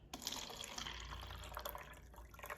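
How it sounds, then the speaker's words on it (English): Water emptied from a container used to soak produce, a continuous close gushing and splashing pour that holds steady for a few seconds, with no speech over it. "I'm just going to empty the water to show you what was taken off of each"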